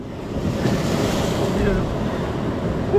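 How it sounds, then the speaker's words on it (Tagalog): Strong ocean waves rolling off Palawan on a popper fishing trip from a boat, a continuous loud rushing surf mixed with wind rumble on the microphone, steady throughout. "sakto lang naman, kaso yung alon yung lakas eh."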